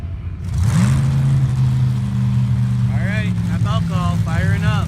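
A top alcohol drag racing car engine fires up and settles into a loud, steady rumbling idle at the track, with a commentator talking over it toward the end.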